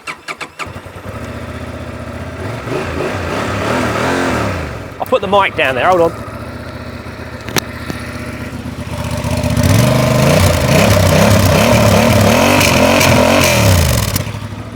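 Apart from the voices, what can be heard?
motorcycle engine running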